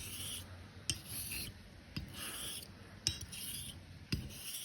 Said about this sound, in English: it can set a bevel on a razor also quite easily using a slurry method